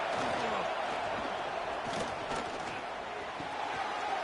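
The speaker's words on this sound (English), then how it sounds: "It's early, but this crowd is fired up. Listen to this noise here." Roaring stadium crowd noise in a college football video game at Oklahoma hosting Texas A&M, a steady dense wash of cheering that stays loud and continuous throughout, with no commentary over it.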